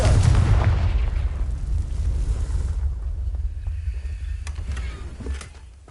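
Confringo blasting curse in the Hogwarts Legacy video game, a loud deep explosion at the start that rumbles and fades into debris crackle and quieter ambience, with a small thump near the end.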